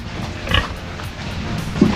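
Pigs on a farm in their pen give short grunts and squeals, one burst early and another low grunt near the end, over faint background noise.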